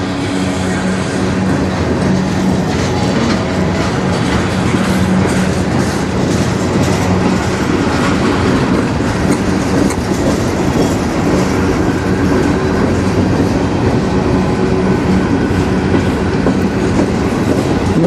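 A CN freight train rolls past in Sarnia, Ontario, a loud, steady rumble with continuous clickety-clack of wheels over rail joints, sustained and close throughout with no pause.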